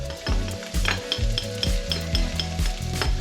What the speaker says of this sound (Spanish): lo siguiente que vamos a hacer es rehogar estos dientes de ajo que hemos cortado pequeñitos